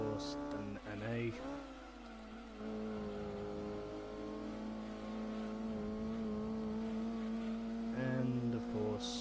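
A naturally aspirated car engine revs hard around Midfield Raceway in Gran Turismo 2 on PAL. A close, loud engine tone climbs and falls through gear changes, with a speaking voice over parts of it.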